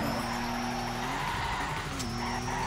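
Car tires screech continuously in a drift in the Torque Drift racing game, a loud sustained skid over a steady engine drone.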